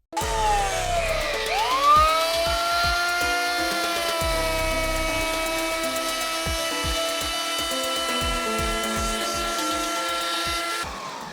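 A shot blaster blasts rust off the steel surface of a lighthouse with a continuous loud whine and a rapid rhythmic pulsing that runs for about ten seconds before cutting off.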